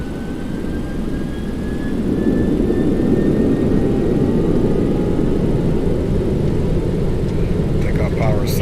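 Boeing 737 engines spooling up to takeoff power in X-Plane 11, a steady loud roar with a faint rising whine that builds after two seconds and then holds.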